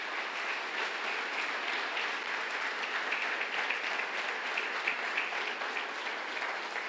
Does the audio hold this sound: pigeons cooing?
no